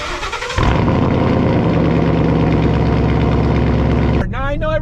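A Ford Mustang GT's V8 cold-starts with a sharp catch and then roars into a loud, steady high idle for several seconds before a voice starts talking.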